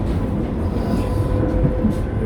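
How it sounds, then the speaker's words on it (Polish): Inside a moving tram in Warsaw, a loud steady rumble of wheels on rails fills the cabin, with faint squeals and rattles rising briefly over the continuous low roar. "Jadę tramwajem."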